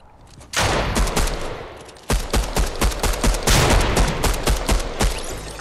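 Rapid pistol shots in the Fortnite video game, a steady string of sharp, loud cracks fired close by, with a brief pause before a second, denser burst, and no talking.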